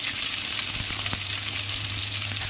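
Six or seven chopped onions sizzle steadily in a hot pan for mutton biryani, a continuous close frying hiss with faint stirring scrapes and no talk.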